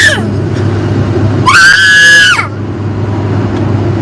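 A child lets out a loud, sustained high-pitched scream lasting about a second, rising and then dropping off, after a briefer cry at the start, over a steady low indoor hum.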